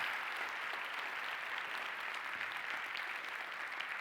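Conference session audience gives steady, even applause for two co-hosts, a continuous soft hiss of many hands clapping at a moderate distance without pause.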